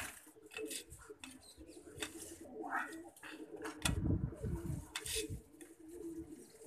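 Pigeons coo in low, soft bursts close by while feeding on peas and paneer, mixed with faint chirps and light clattering from the surroundings.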